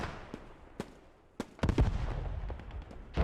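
Mortar strike in the Post Scriptum WWII shooter game: several sharp, fairly distant blasts and pops at irregular spacing, followed by a rumbling cluster of impacts and another burst at the close.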